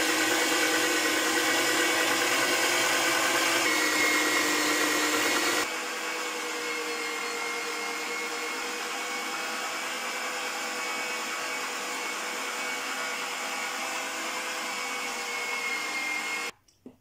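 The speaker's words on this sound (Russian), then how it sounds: "Перец, лук и мясо я перекрутила." A kitchen meat grinder minces pepper, onion and lean meat for cabbage-roll filling, giving a steady loud motor whir that runs continuously and then shifts to a slightly lower, steadier drone before cutting off at the end, with no talking.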